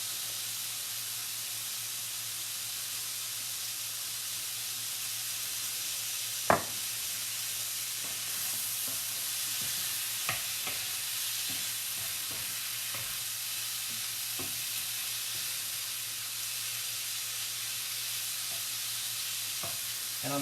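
Beef and asparagus fry in sesame oil in a pan with a steady, even sizzle, broken by a few sharp clicks of stirring.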